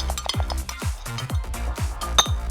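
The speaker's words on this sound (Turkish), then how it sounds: "Daha sonra hepsini kaşıkla karıştır" A spoon stirring milk and chocolate in a glass jar, a series of repeated clinks of metal against glass at an uneven quick rhythm, close and clear.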